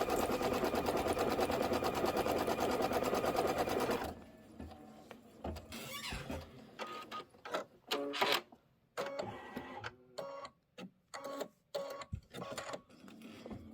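Sewing machine quilting a Kimberbell pillow, stitching at a fast, steady rhythm for a few seconds, then stopping and starting in short bursts of slower stitches with clicks and pauses between them.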